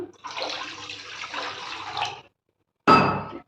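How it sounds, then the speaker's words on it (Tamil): Water pours steadily into a cooking pot of egg paniyaram kuzhambu for about two seconds, stops briefly, then a shorter splashing burst of liquid follows. "தண்ணி பத்தாது, நம்ம இன்னும் கொஞ்சம் சேர்த்துக்கலாம்."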